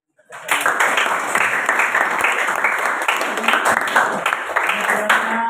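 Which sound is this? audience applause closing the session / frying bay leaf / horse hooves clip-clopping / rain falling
audience applause closing the session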